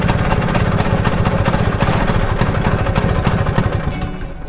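A Vespa ET3 scooter's two-stroke engine putters loudly up close with a rapid, even beat, then fades and dies as it runs out of fuel with the tap in the closed position.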